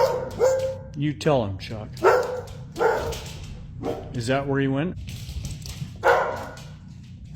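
A pet dog barks several times in loud, sharp bursts at home, mixed with someone talking to it.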